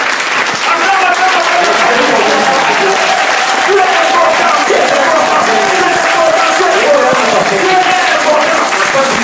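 A church congregation bursts into loud, sustained applause, a dense continuous wash of clapping from many hands with a faint crowd murmur that holds evenly throughout.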